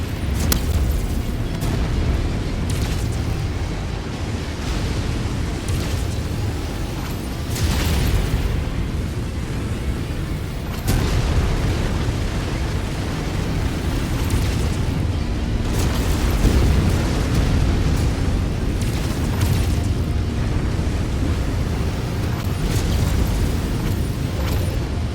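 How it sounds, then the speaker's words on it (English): Repeated booming missile explosions and mechanical rumble fill a battle in the video game MechWarrior 5, with loud dense impacts recurring every few seconds over continuous low roar. "Incoming missile."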